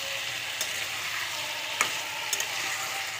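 Chopped tomato frying in a pan with ridge gourd, a dense continuous sizzle close up with a few light scrapes of stirring, no voices.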